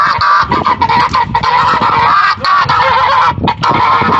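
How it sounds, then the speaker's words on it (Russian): A flock of geese near farm fish ponds honk loudly and continuously, overlapping calls packed close together with brief pauses, close to the listener and with no talking. "Гуси, гуси, гуси."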